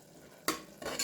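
Coconut milk is poured into simmering spinach greens and stirred in a pan, giving two short bursts of splashing and scraping, close and brief, with no talking.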